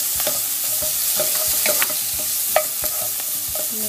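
Onions, garlic, ginger and chilies sizzle steadily in a hot pan for a pink salmon curry, with repeated scraping stirs of a utensil breaking through the constant frying hiss.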